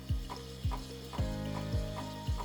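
Milk steaming under an espresso wand in the vortex phase, a steady hiss with rhythmic sputtering pulses about every half second, close and loud.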